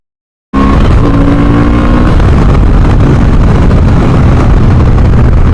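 Honda Hornet CB 750 motorcycle engine on a test ride, starting abruptly after a brief silence with a loud, close revving drone that climbs through gears and holds steady with wind noise.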